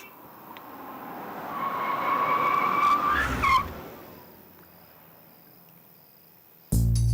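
A car sweeps in with a long, loud screech of skidding tyres that builds and then cuts off abruptly, followed by a quieter hiss of ambience and a sudden loud thump at the end; no one speaks.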